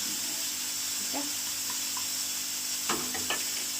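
Cumin seeds and turmeric sizzle in hot oil as a tempering for haleem, a steady close frying hiss with a few faint crackles and clinks, no talk.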